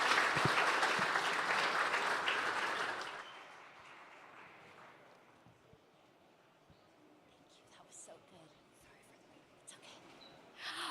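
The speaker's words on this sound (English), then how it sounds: "can we give our very optimistic Joe Lubin, idealist Joe Lubin, a big round of applause for the big picture?" Audience applause at a blockchain conference, loud dense clapping for about three seconds that then fades into quiet room murmur with a few scattered sounds.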